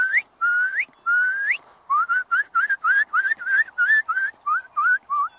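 A person whistles a series of rising, slurred notes, a few long ones then a quick run of short repeated calls, imitating a curlew.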